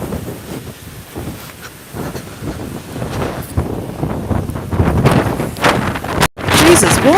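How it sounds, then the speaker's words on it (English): Gusty wind in Sydney buffets the microphone in a steady roar, rising louder toward the end, with a brief cut near the close. "why is it so windy?"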